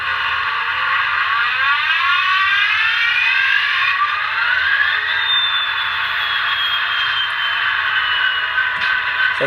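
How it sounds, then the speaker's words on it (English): A model KCS SD70MAC locomotive with a SoundTraxx Tsunami 710 sound decoder starts up, giving a loud, steady, tinny engine drone whose pitch rises and winds up over several seconds from a small speaker, with no talking. "that's your standard Soundtrack Tsunami 710 startup"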